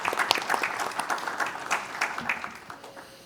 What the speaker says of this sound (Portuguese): Eu peço aqui uma salva de palmas para os nossos painelistas.